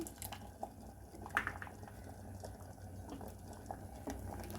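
A pot of black-eyed pea saaru with tamarind water simmering on the stove after pressure cooking, with a faint, steady low bubbling and a few soft pops, quiet and alone.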